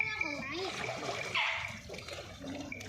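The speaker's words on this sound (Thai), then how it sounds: "เขาสาดน้ำหนู" An elephant splashing water, with bursts of sloshing and splattering close by while a voice talks and squeals over it.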